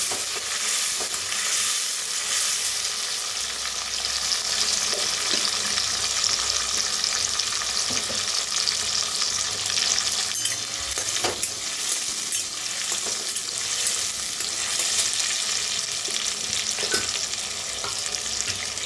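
Two large cut tomatoes roasting in a pan with curry leaves and spiced oil, a continuous close sizzle with occasional stirring scrapes and pops, no voices.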